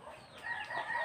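Farmyard chickens cluck and call in a short burst of nasal, bright notes close by, rising slightly toward the end with no talk over them.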